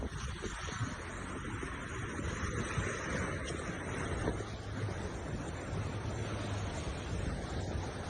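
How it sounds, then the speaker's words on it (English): Steady ocean surf rolls and washes continuously, mixed with strong wind buffeting the microphone, with no voices. "The small waves don't seem too menacing."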